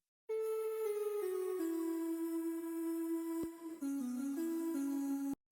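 A sampled sung "ooh" vocal synth with reverb plays a slow descending-then-rising melodic line, smooth sustained tones changing note every half second or so, alone, with a soft tail and a couple of small clicks.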